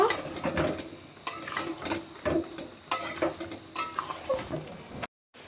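Vegetables are stir-fried in a pan at home for a Kojagari Lakshmi Puja meal, with repeated bursts of scraping and stirring, light metal clinks and a soft sizzle underneath, cutting to silence at the end.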